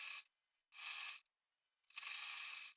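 A sewing machine stitches the sleeve of a belt-style blouse in three bursts of steady whirring, the short first one followed by two longer runs, with quiet pauses between them.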